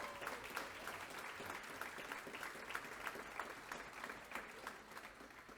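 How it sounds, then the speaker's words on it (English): Audience applause at an awards celebration honoring mentors, a steady wash of many hands clapping, sustained throughout and somewhat distant and soft. "Give that number a round of applause."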